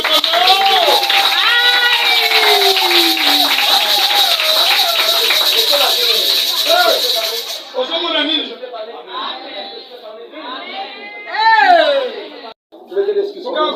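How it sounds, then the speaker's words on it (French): A church congregation erupts in loud, overlapping cheering, with high shouts and ululating voices packed together, then thins into scattered whoops and calls that swell again briefly near the end. "On acclame très fort."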